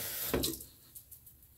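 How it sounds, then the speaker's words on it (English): Water runs from a tap to wet a dry Omega boar hair shaving brush. There is one brief, close splash and trickle, then a faint drip, with no talking. "A little dry, so I'm going to add a little bit of water."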